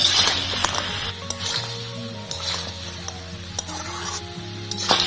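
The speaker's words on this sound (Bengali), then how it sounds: "দিয়ে দেবো ভেজে রাখা বড়ি, ভালো করে মিশিয়ে নেব" Fried lentil dumplings (bori) are stirred into a cooked spice mix for a Bengali mixed-vegetable chhokka, with close, sizzling oil and repeated scraping spoon strokes against the pan.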